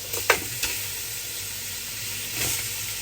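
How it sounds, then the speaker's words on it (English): Chicken sizzles steadily in a very hot pot for meat stew, a close, constant crackling hiss with a few brief clanks of utensils. "Chicken going in there. You can hear the sound. The pot is very hot."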